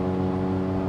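A 1998 Daihatsu Hijet Super Jumbo kei truck engine held at full throttle in fourth gear, a steady loud droning hum with strong low harmonics, continuous and unbroken.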